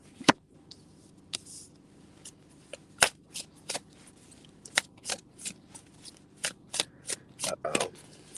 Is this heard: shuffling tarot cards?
yes